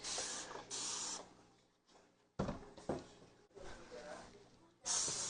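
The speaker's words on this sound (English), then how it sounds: "this thing makes it so easy with that spray pump." Dawn Power Wash dish soap hisses from its spray pump while cleaning a whitetail deer skull for a euro mount. Short, close bursts of spray come in pairs, with quieter handling noises between them.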